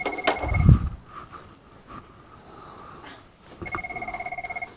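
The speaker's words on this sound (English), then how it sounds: "Going to ignore the phone here." A telephone rings in a lecture room during an anatomy class, sounding two bursts of a bright electronic ring, one at the start and a longer pulsing one near the end, with a brief low thump between.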